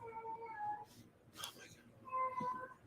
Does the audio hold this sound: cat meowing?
yes